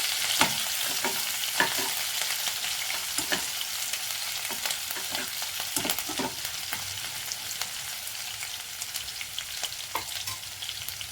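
Chilies fry in a pan for a bread snack: a bright, continuous sizzle heard up close, punctuated by repeated sharp scraping strokes as they are stirred, with no speech.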